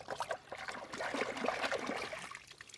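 Water splashes and trickles steadily as a large mud crab is rinsed at night in a mangrove forest, close and continuous for a few seconds.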